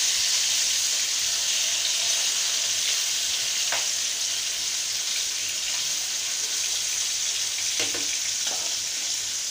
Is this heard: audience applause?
no